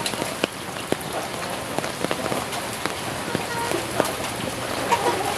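Heavy rain pours steadily during a flood at a yard where chickens and rabbits are kept, a dense constant hiss with scattered louder drops close by.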